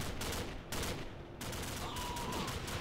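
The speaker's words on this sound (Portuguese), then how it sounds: "Ele tá atirando no kill" Heavy automatic gunfire from the Call of Duty Frontlines video game rattles in fast continuous bursts, loud and dense, with a brief dip before the shooting resumes without pause.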